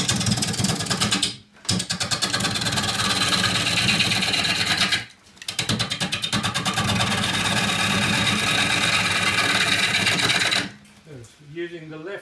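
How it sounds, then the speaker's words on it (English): A wood lathe turning a short box elder log runs loud and continuous with a throbbing whirr. The bench behind it is tied to the wall so the building shakes. It drops out briefly twice, then winds down near the end. "The whole building's shaking when I turn that on because the bench at the back of the lathe is connected to the wall."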